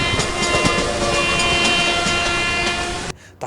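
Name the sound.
Indian Railways train horn blowing after emergency chain pull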